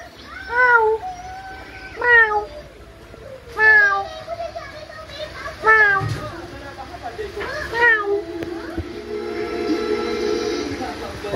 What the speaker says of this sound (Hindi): और इनके बिल्ली ने छोटे छोटे बच्चे भी दिए।